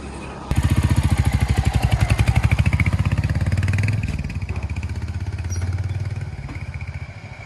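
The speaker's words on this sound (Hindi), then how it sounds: "अभी हिमांशु हमारा भाई बाइक चला रहा है" A Royal Enfield Hunter 350 motorcycle ridden on a long road trip in Uttarakhand, its single-cylinder engine thumping in a steady, fast pulse, close and loud throughout with wind rush.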